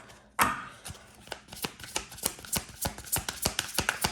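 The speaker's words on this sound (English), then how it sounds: "No, we'll shuffle again." Tarot cards being shuffled by hand, a series of soft quick riffling slaps and taps in an uneven rhythm, close and fairly quiet with no talking.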